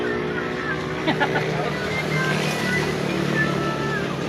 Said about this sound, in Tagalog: Kalagot ang motor, nabana ba?